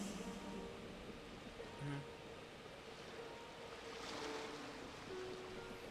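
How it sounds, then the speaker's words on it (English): Ocean surf rolling in Genshin Impact, a steady broadband wash of waves with soft swells rising and falling, a few faint tonal game sounds and brief voice-like murmurs mixed in. "Go to where you can hear the sound of the waves"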